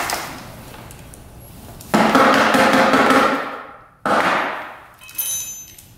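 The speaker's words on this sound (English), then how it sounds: "I can hear like a bunch of nuts and stuff in there." Loose nuts and debris rattle inside the airbox of a 6x6 ATV, heard as two loud bursts of metallic clattering and knocking, each fading out, with no talk.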